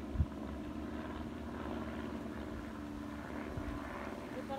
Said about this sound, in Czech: To jsou drony, bych řekl. No, to jsou nějaký malý helikoptérky